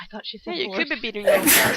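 A person sneezes loudly and abruptly near the end, following a stretch of close conversational talk between a few people.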